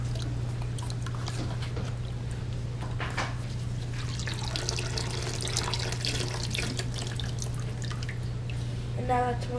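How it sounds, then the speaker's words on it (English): Water draining from a DIY hydroponic system's nutrient reservoir, with steady dripping and trickling into a container over a constant low hum, close and continuous throughout. "Now that's most of the water that came out."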